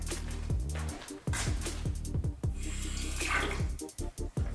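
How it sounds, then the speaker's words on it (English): An AeroPress paper filter is rinsed under a running kitchen sink tap, giving a steady close rush of water with splashing shifts and a few brief interruptions near the end. "So I'm gonna rinse this in the sink really quick."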